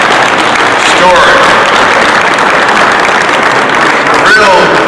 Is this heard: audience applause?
yes